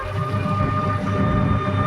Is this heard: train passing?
yes